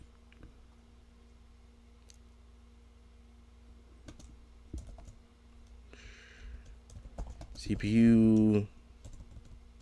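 Soft, quick clicks from a computer keyboard being typed on, faint and close, run through a quiet room before a voice briefly speaks near the end.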